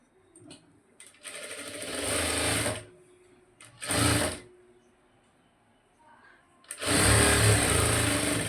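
A sewing machine stitches along a blouse neckline in three loud bursts of whirring motor run, with short pauses and faint handling noises between them.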